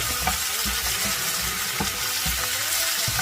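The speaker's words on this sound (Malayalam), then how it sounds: "രണ്ട് ചെറിയ തക്കാളി വളരെ ചെറിയ കഷ്ണങ്ങളാക്കി നുറുക്കി വെച്ചതാണ് അതും ഇതിലേക്ക് ഇട്ട് കൊടുത്തിട്ടുണ്ട്" Green chillies and small chopped tomatoes fry for pattani kuruma, a steady close sizzle with occasional stirring clinks and scrapes throughout, no voices.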